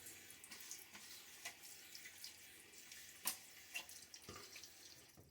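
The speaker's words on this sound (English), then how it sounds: "And now some splashes of water." Quiet water sounds: a few soft splashes and trickles, like water scooped or dripping in a sink while shaving, with brief louder splashes scattered through.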